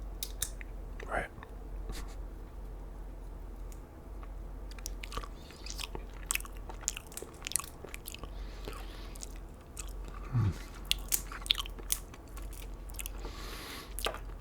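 Boiled peanuts are chewed close to the mic, giving soft wet crunches and bites scattered over a quiet background, with a faint whisper at times.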